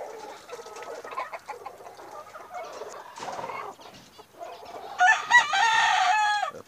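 Inbred gamefowl chickens, offspring of a single hen, cluck steadily at close range while roosters crow repeatedly, with loud overlapping crows in the final seconds.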